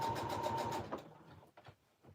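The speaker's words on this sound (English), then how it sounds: "I sew around this little piece of fabric here" A sewing machine stitching around a small piece of fabric, a rapid rhythmic chattering run of stitches for under a second, then it stops, followed by a few faint handling sounds.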